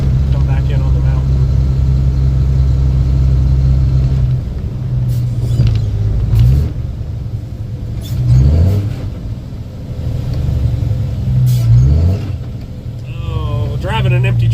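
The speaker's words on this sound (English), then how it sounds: "Driving an empty truck in the rain can be a little scary sometimes." An empty truck drives through town in the rain at about 35 to 40 mph, its steady low engine rumble rising and falling with shifts and throttle, with voices talking over it.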